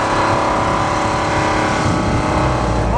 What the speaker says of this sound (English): You really notice the engine in this thing struggling when you go up some of these rises and hills.